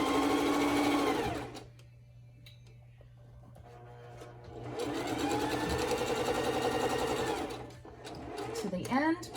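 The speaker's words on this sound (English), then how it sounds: "You're going to sew a few stitches and make sure you back stitch to lock that in place" Sewing machine stitching along the edge of a cloth face mask, running in two long steady bursts of rapid mechanical whirring with a quiet pause between, fairly close and loud.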